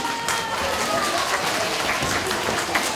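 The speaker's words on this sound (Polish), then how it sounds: "Brawa, brawa jeszcze dla tych dzieci." Dense, continuous applause from an audience at a children's theatre performance in a school theatre review, a steady even wash of clapping with no pauses.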